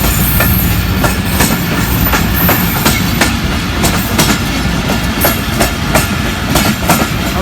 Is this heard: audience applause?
no